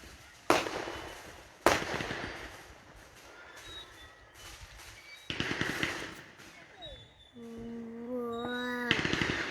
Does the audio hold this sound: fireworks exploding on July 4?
yes